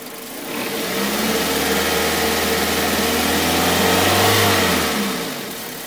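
A Toyota car engine revs up steadily, its pitch climbing and holding high before dropping back down as the throttle eases off.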